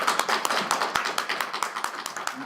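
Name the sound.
audience applause for the panel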